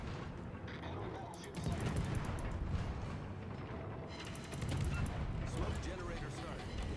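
An enemy ship fires on the player in a naval video game, with heavy booming bursts over mechanical clanking and ratcheting, two stronger volleys rising out of a steady rumble.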